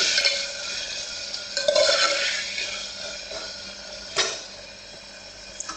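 Chili, turmeric and salt roast in a pan with green onions as a spoon stirs them, giving a close, continuous sizzle with scraping strokes and a few sharper clinks against the pan.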